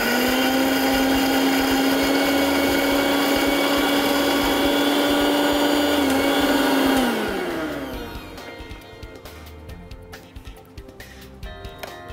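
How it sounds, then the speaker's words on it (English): Electric grinder whirring loudly and steadily as fried onions are ground into a paste, running close for about seven seconds before the motor winds down and stops, leaving faint clatter. "So let's grind the onions."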